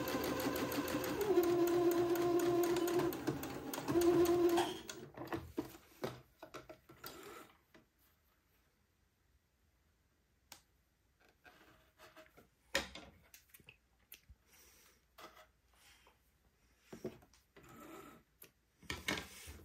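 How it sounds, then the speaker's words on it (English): A sewing machine stitches the shoulder seams of a little white dress, running in a steady mechanical whir for about four seconds, then falling quiet. Scattered handling clicks and fabric rustles follow at low level. "So we're going to sew the shoulder seams on both of the front pieces."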